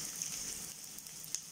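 Chopped onions with mustard seeds frying in hot oil, a short burst of steady bright sizzling and crackle close by, with no talking.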